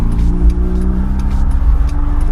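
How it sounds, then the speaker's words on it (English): A small Hyundai car driving by, a steady mid-pitched engine hum and road rumble at close range, recorded onboard an action camera with no external microphone, continuous and fairly loud throughout. "Driving the little Hyundai car, homie"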